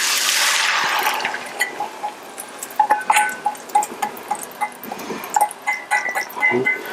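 Omelette mixture pours into a hot pan on low heat, a broad liquid pour at first that settles into soft, intermittent sizzling and crackling pops, close and fairly loud, with no talking.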